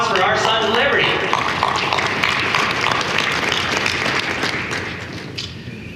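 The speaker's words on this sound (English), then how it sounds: "So we have a round of applause for our Sons of Liberty." Conference audience at a pharmacy industry event applauding, a dense steady roar of clapping with thumps and crowd noise throughout, slowly fading toward the end, with voices mixed in.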